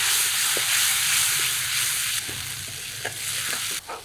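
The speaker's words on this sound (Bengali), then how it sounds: "এবার বাটা মশলা আদা কাঁচা লঙ্কা আর মটরশুঁটি বাটা দিয়ে দিলাম মিশিয়ে দিই ভালো করে" Ground spice paste with ginger, green chilli and green pea paste fries in a pan for a Bengali katla fish kalia, a loud close sizzling hiss broken by scraping stirs and spoon knocks.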